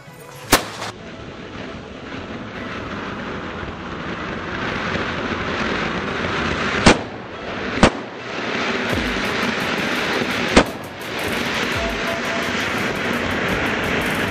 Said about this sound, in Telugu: వావ్ మీరు చూసుకోవచ్చు అక్కడ చూస్తే బిజ్లీ క్రాకర్స్ ఉన్నాయి.